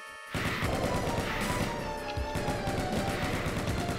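Sustained rapid machine-gun fire from an enemy machine gunner in the Doom mod UAC Ultra, loud and continuous with crashing impacts mixed in, no speech.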